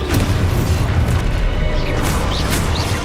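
A video game spell explosion, a loud booming blast with rumbling debris that fills the whole moment and slowly settles.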